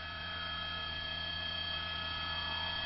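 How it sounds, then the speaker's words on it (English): A steady, droning LAPD helicopter hum with a faint rhythmic pulse, rising slightly in loudness as it passes at a distance during a police pursuit in Los Angeles. "Was a LAPD chopper that just whizzed by our shot there."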